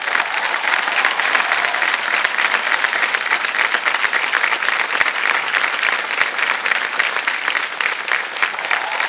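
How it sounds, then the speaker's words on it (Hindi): The studio audience of the KBC game show bursts into loud, sustained, even applause that fills the space with dense, continuous clapping throughout. "जोरदार तालियां बज जाए"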